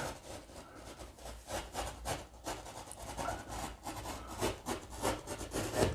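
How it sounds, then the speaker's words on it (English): A utility knife scores plasterboard for overboarding a ceiling, making close, rhythmic scraping and rasping strokes that rise and fall in loudness, with no talking. "just one score as deep as I possibly can go"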